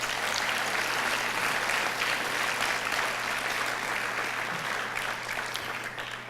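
An audience applauding at a business press conference, a dense, sustained round of clapping at moderate loudness over a low electrical hum.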